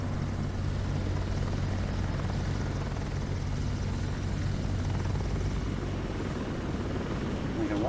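A helicopter flies in Microsoft Flight Simulator 2024, giving a steady, loud rotor-and-engine drone with a low throbbing hum that holds unbroken throughout.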